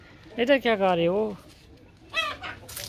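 Chickens in their coop give a couple of loud, close clucking calls, briefly overlapping with a voice speaking nearby.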